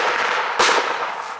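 Gunfire at a World War reenactment battle on a farm, a dense crackle of blank shots with one sharper loud crack standing out near the middle, close and continuous.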